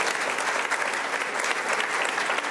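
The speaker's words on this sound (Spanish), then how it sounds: "un aplauso muy grande pido para Darío Villanueva" Applause for Darío Villanueva at the end of an interview: a steady wash of many hands clapping in a hall, moderately loud and unbroken, with no voices on top.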